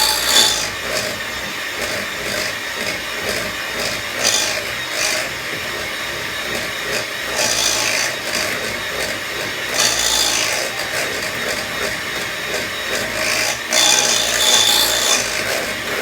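Wire whisk stirring melted milk chocolate in a bowl for a malt chocolate cheesecake, a steady close scraping and rasping that pulses in uneven strokes for about sixteen seconds with no talking.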